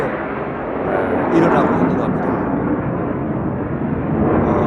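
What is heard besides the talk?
fighter jets flying near K2 air force base, Daegu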